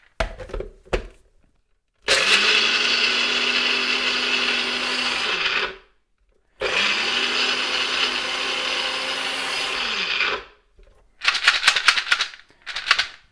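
A blender grinds hazelnuts toward a paste for homemade Nutella in two loud, steady whirring runs separated by a short pause, followed by scraping and clattering.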